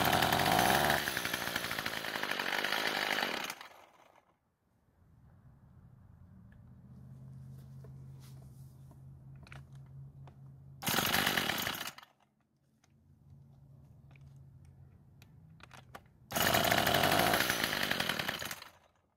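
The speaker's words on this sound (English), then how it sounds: "So it's starting, but it won't stay running" Troy-Bilt gas pole saw engine starting with a jump starter, three loud buzzing bursts, each cut off after a few seconds, with quieter idling between bursts.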